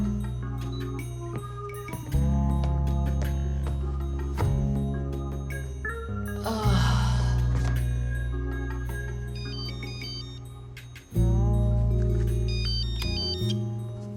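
A telephone rings with a melodic ringtone, a loud repeating pattern of bright tones that runs steadily for about fourteen seconds with no voices over it.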